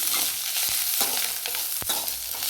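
Coconut, tomato, curry leaves and garlic fry in a pan for perandai thuvayal, a constant close sizzle broken by several sharp scrapes and taps of stirring.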